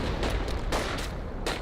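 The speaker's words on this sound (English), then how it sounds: "calling in artillery on the Krieg barracks" Booming artillery shells land in Company of Heroes, several heavy blasts and cracks in quick irregular succession, loud and close over a rumbling battlefield background.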